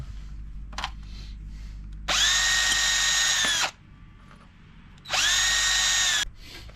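A power tool tightens bolts on the wheel hub of a 2006 Volvo XC70 during a hub bearing replacement, giving two loud, close whirring bursts of about one and a half seconds each, separated by a short pause.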